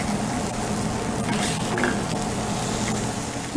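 Quinoa and sweet potato cakes searing in a preheated pan, a steady close sizzle with faint scraping, constant and fairly loud throughout, no talking.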